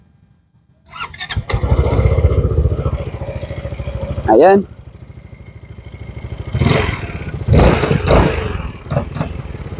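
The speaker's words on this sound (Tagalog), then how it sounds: "Pakinggan nyo yung exhaust niya." Zontes 368G adventure maxi-scooter starting up, then idling with a steady exhaust rumble broken by several sharp revs, loud and close, while someone talks over it.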